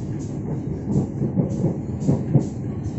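A local commuter train pulls into Kiaracondong station in Bandung, with a steady rumble and rhythmic wheel clatter over rail joints at close range.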